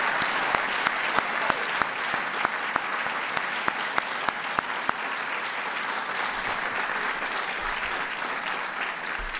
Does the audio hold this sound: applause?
yes